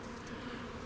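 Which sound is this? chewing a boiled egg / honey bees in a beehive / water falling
honey bees in a beehive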